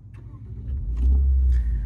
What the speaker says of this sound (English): Yes, now we hear that engine come to life.